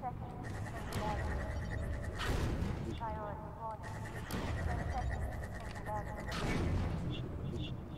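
Heavy, recurring booms and gunfire-like blasts from the Half-Life 2 video game, pulsing in waves over a steady rumble with mechanical whines, fairly loud and sustained.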